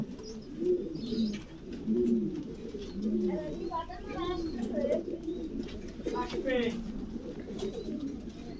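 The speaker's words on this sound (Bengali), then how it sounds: "অনেক বড়, অনেক বিশাল কবুতরের ফার্ম" Many pigeons at a large caged pigeon farm in Faridpur, Bangladesh, coo repeatedly in soft, rhythmic, overlapping calls, with faint chirps and a voice talking underneath.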